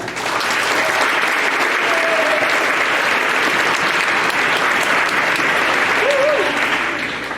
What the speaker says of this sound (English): They are coached by Steve Hawk and Vince Smith, so give them a round of applause.